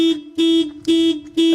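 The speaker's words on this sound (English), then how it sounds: "as soon as I open this door the alarm will go off." Land Rover Discovery 2 car alarm going off, a loud buzzing electronic siren that pulses on and off in a regular rhythm, about two blasts per second, close and alone.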